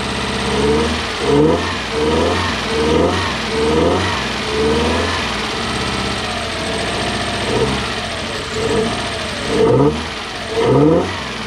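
Toyota 1UZ-FE V8 in a Toyota Surf or 4Runner, misfiring on four cylinders, revved in a string of short blips from a rough idle, each rise clear and close, with a lumpy, uneven note between them.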